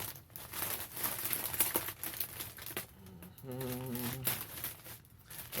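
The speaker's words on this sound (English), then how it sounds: "So I'm going to use these scissors so I don't damage it." Scissors snip and crinkle through a thin clear plastic clothing bag around a coat, with rustling, crackling film and a few sharper cuts, close-up and moderately quiet, with a voice briefly audible partway through.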